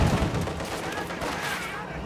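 An anti-tank rifle grenade fires in the video game Company of Heroes 2, a sharp, loud blast at the start that fades into a rumbling battle noise.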